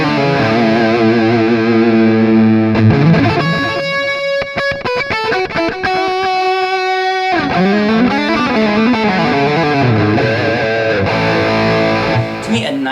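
An electric guitar plays a smooth, warm, gooey 80s-style lead through a Jam Up Pro XT amp preset with delay, reduced gain and a noise gate. It runs loud and continuous with sustained bends and notes throughout.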